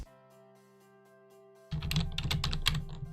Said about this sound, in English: I'm aiming with the keyboard.